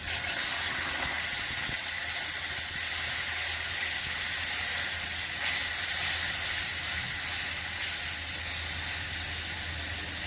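Water poured onto frying spice paste for a Bengali masala rohu fish curry hisses and sizzles steadily, a loud continuous wash of steam that holds for the whole stretch without talk.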